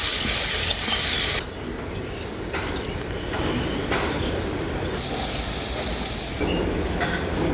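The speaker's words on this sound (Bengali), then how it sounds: "এরপর আমি আলুগুলোকেও খুব ভালো করে ভাজতে থাকবো" Diced potatoes, salted and dusted with a little turmeric, fry in hot oil as a steady, dense hiss that swells louder near the start and again around the fifth second. No one speaks.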